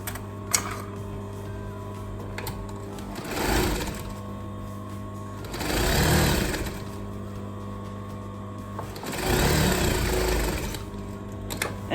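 Sewing machine stitching up the back of a gathered skirt, running in three separate bursts of a couple of seconds each with quiet pauses between, close and fairly loud over a steady low hum.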